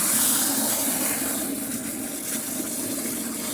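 Water runs steadily into a ten-gallon pot for a sour mash kit, a continuous rushing hiss that stays close and even throughout, with no voices.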